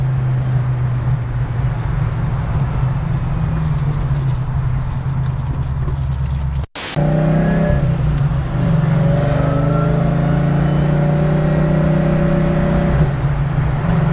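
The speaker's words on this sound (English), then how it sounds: "we'll get some acceleration runs for you" A sports car with an upgraded clutch revs hard through an acceleration run, a loud, steady engine drone broken by a brief cut, likely a gear change, before climbing again, close and alone.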